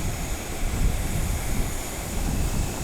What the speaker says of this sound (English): Definitely feel the wind up here